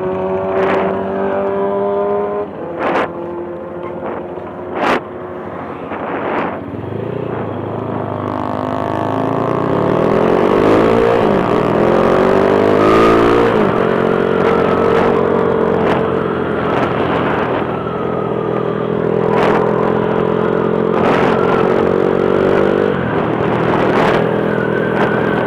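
A Honda CB motorcycle racing against DOHC bikes, its engine revving hard and rising in pitch, loud and close, with other bikes' engines blending in and brief sharp bursts throughout.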